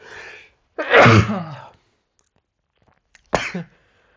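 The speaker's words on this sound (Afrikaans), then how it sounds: "'n nies en 'n hoes saam" A loud, close sneeze from one person, followed after a pause by a short, sharp cough, with near-silence between the two bursts.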